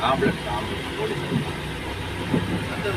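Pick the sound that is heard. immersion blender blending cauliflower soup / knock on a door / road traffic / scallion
road traffic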